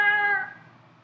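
A human voice imitates a cat's meow, delivered as a single drawn-out, fairly loud call that tails off quietly after about half a second.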